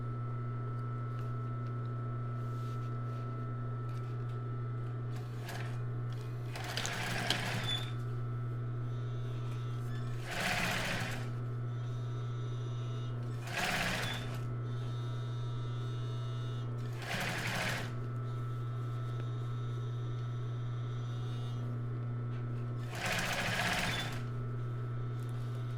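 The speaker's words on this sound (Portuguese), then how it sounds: "E eu vou fazer uma costura aqui, no ponto reto, ponto 4" A sewing machine running a straight stitch on a bra cup for a strapless top, sewing in five short bursts over a steady low motor hum, close and moderately loud.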